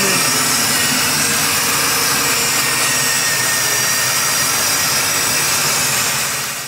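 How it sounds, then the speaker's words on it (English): The 400 small-block engine of a 1973 Chevy Impala runs steadily in a broad, loud roar with a constant hiss and rumble, close up and with no talk. "So I got the engine running."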